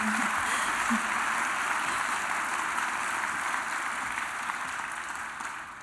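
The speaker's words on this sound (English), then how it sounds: "Yeah, round of applause." Audience applause at a 2013 award ceremony, a broad even wash of clapping from a large crowd that holds steady and then slowly tapers toward the end, with a brief voice near the start.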